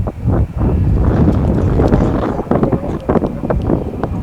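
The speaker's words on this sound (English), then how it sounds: "Let that wind die down a second." Heavy wind buffeting a microphone outdoors in Hartsville, South Carolina, a steady low roar that stays loud throughout with a few gusty bumps toward the end.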